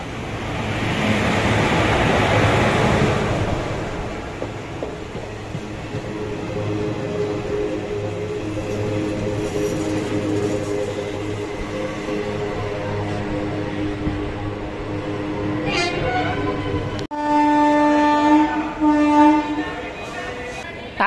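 A delayed express train pulls into Hosur railway station, its rumble building and fading, then a loud horn blast sounds close by near the end.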